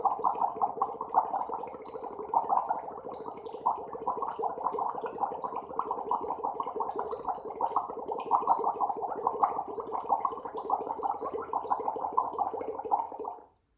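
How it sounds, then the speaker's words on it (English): Steady bubbling of breath blown through a straw into water, a continuous close gurgle lasting about thirteen seconds with slight pulsing, then stopping abruptly. "So you've got the pressure naturally created by blowing into the water"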